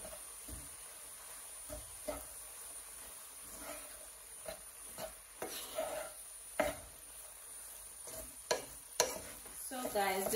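Shrimp and lobster fried rice with oyster sauce is stirred in a hot pan, giving a faint, steady sizzle broken by scattered scraping and clinking strokes that grow a little busier toward the end.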